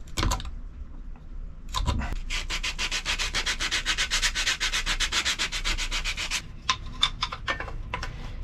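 Hand sanding on wood during a wooden boat restoration rasps in a steady back-and-forth rhythm, close and clear, with a few short strokes at the start and a scattered handful at the end.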